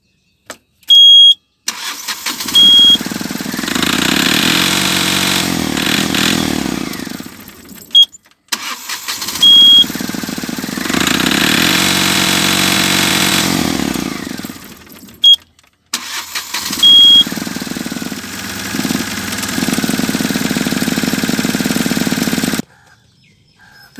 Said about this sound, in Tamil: இப்போ கரெக்டாக ஸ்டார்ட் ஆகுது.